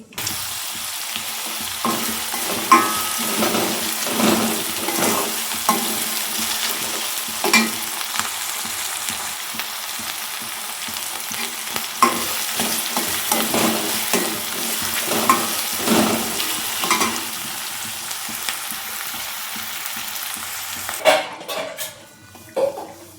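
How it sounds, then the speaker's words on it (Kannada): A tempering for mandakki (puffed rice) crackles and sizzles in a pan, with a steady hiss throughout and repeated scraping clicks of stirring. A few louder clatters come near the end. "ಮಂಡಕ್ಕಿಗೆ ಒಗ್ಗರಣೆ ರೆಡಿ ಆಯಿತು"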